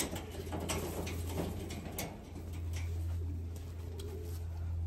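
Racing pigeons coo softly in a loft for an OLR race entry, low repeated calls over a steady hum, with faint clicks and bird movement nearby.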